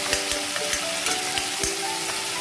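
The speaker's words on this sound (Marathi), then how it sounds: "आलं लसूणचा जो उग्र वास होतो तो निघून जाईल, ते म्हणून मी तेलात परतते" Ginger and garlic sauté in hot oil for a palak paneer, giving a steady close-up sizzle with a few soft stirring knocks and scrapes and no voices.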